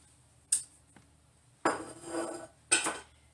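Pots and utensils clatter while cabbage is added to pasta in a home kitchen, three distinct clanks and scrapes of metal and cookware spaced a second apart.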